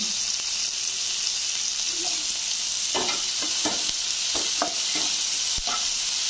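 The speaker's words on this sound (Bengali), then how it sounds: "পেঁয়াজ টমেটো একটু ভাজা করে নেব, ওদের কাঁচা ভাবটা কমিয়ে নেব।" Onions and tomatoes fry in a pan with a loud, constant sizzle, while a utensil stirs and scrapes through them in several sharp, irregular clacks.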